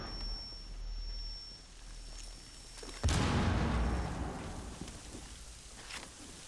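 A frag grenade blast in Rainbow Six Siege on the Bank map erupts suddenly as one loud, close burst, then rumbles and fades over a few seconds. Quiet background comes before it, with no talk.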